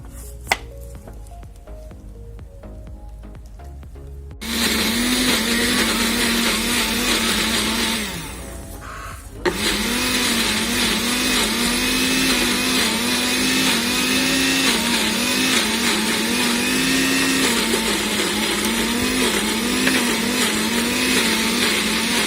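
A blender purees soup ingredients until smooth, switching on after a few seconds of quiet clatter into a loud, steady motor whir that briefly drops before resuming and running continuously.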